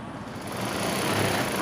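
A sewing machine runs steadily, stitching crosswise rows on a quilted godhadi made from an old saree, with a close, continuous buzzing whir that grows slightly louder as it goes, without talk.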